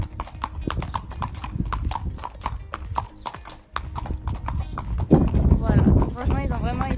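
Hooves clip-clop in a quick, steady rhythm on a hard surface, with voices talking over them and a horse snorting near the end.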